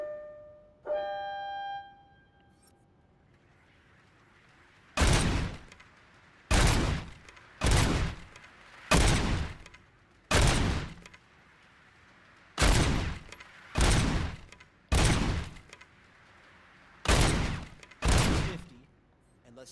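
Gunshots at a shooting range in the game RoboCop: Rogue City: after a short electronic tone, ten or so loud, sharp shots ring out one at a time at irregular intervals, each with a brief echoing tail.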